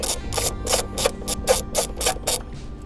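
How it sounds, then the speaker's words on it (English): A T50 socket on a ratchet tightens a bolt during a car amplifier install, giving about ten quick, evenly spaced bursts of sharp ratcheting clicks, close and fairly loud, with no talking. "I'm gonna go ahead and grab my T50 socket and ratchet. And I'm just gonna go ahead and lightly put one bolt in"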